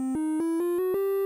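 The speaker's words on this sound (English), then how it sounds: "A triangle wave sounds like this, by the way." A synthesized NES-style triangle wave gives a soft, hollow tone played as five or six quick repeated notes that creep slightly upward in pitch. It is close and steady, with no voices.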